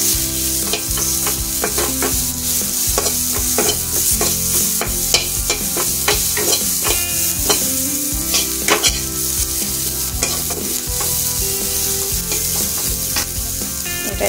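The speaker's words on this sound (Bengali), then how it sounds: "এটা একটু ভাজা ভাজা হোক," Onion and chilli being stir-fried in a pan, a loud continuous sizzle broken by frequent sharp spatula scrapes and knocks against the pan at an irregular rhythm, close up and without talk.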